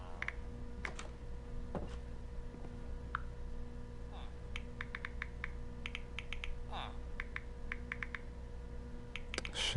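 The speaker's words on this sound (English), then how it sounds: "I'm gonna turn on the sound so you can hear me typing" Keyboard tap sounds from the PlayStation phone app play as a string of quick, light ticks and clicks in irregular bursts over a steady background hum, fairly faint.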